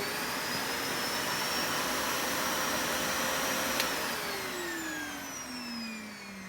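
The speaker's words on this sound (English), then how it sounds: "So we know that it works." Numatic Henry HVR200 vacuum cleaner running steadily with a loud, continuous motor whine close by, its pitch sliding downward in the last seconds as the motor begins to slow.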